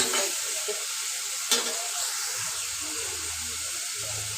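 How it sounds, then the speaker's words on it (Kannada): Vegetables sizzle and crackle steadily in hot tempering oil, with a sharp clatter of stirring partway through; no voices. "ನಾನು ಎಣ್ಣೆಯಲ್ಲೇ ಸ್ವಲ್ಪ ಒಗ್ಗರಣೆಯಲ್ಲಿ ಫ್ರೈ ಮಾಡ್ತೀನಿ"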